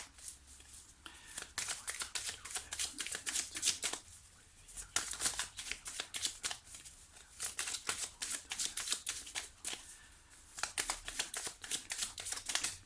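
Tarot cards are shuffled near the microphone in long runs of riffling and flicking with brief pauses between them, and no voice is heard.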